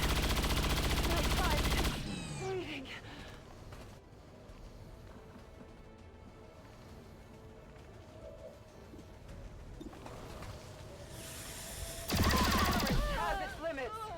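Gunfire in the video game XCOM 2 hits in two loud bursts of rapid automatic fire, one at the start and one near the end, with quieter game ambience between.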